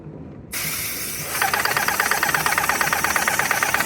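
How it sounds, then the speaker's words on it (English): A steady, close hiss of a paint sprayer starts abruptly and keeps spraying, with a faint rapid pulsing from the pump. "Now we're spraying just like we should."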